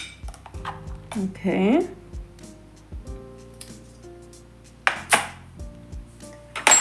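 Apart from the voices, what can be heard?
spoon scooping couscous out of a lunch tiffin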